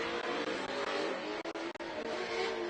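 Pro 2 short course race truck running hard around a dirt track at a Great American Short Course round, a steady continuous engine roar with brief dips as it passes.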